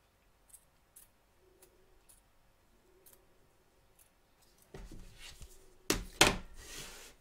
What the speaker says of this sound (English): turn your hoop over and trim away, taking care not to cut your stitches